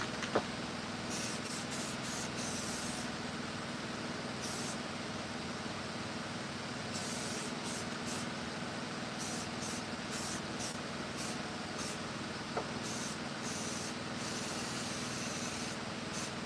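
An aerosol rattle can sprays paint steadily onto a carved pumpkin, a continuous close hiss broken by brief pauses between bursts, with a faint background hum underneath.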